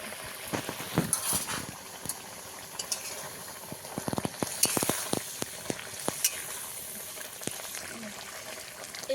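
Khalse fish curry being sautéed and stirred in a pan, a low sizzle under repeated scraping and clinking of a spatula against the pan, moderately close and fairly quiet.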